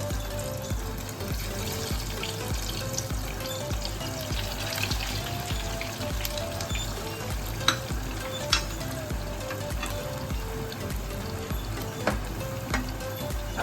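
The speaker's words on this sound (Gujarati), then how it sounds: "તો તેલ છે ને જો આ રીતે ખૂબ ગરમ થઈ ગયું છે તો આપણે ટીકીને છે ને આ રીતે તળી લેશું આપણે" Aloo tikki patties fry in very hot oil for veg burgers, a steady close crackling sizzle running throughout with occasional small pops and clicks and no voices.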